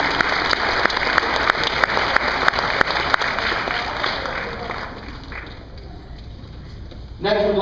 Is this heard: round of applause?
yes